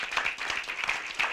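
A brief burst of audience applause at a community education event, with steady, moderately loud clapping from a room of people.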